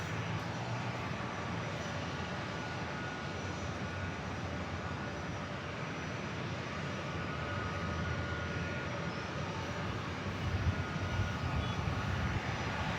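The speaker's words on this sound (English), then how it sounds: "KLM coming in from Amsterdam. Today it's a 787-10 Dreamliner." A KLM Boeing 787-10 Dreamliner arriving from Amsterdam at San Diego airport, heard as a steady, loud jet engine roar that holds throughout and swells slightly near the end, with no talk.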